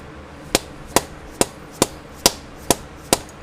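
Eight evenly spaced sharp taps ring out as a part is hammered into a Ruger MKIII pistol frame, each a crisp close strike about half a second apart, with no talking.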